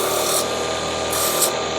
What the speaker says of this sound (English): so what we're gonna do is come over to the sanding disc